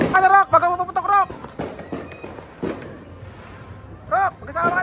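Firecrackers burst during a New Year's celebration, sharp cracks and pops scattered among loud, excited shouting voices nearby.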